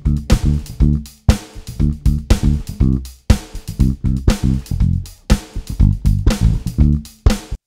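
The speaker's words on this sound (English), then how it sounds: "Don't slap your strings on the upbeat of a groove when you're playing with an" Punchy, percussive bass notes in a steady groove, with sharp slapped attacks recurring on the offbeats over a full ensemble, loud and close.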